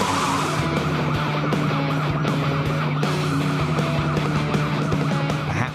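A car skids on the road, then smashes into another car, a loud, steady rush of engine and tyre noise with a humming drone and scattered impacts, continuous throughout, without speech.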